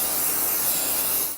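Spray bottle misting onto hotel bed sheets, a steady close hiss lasting over a second before cutting off abruptly.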